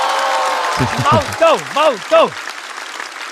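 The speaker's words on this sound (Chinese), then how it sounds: "掌声送给毛豆" A stand-up comedy show audience applauds comedian Maodou, the clapping clearest at first and then continuing underneath as someone speaks loudly over it.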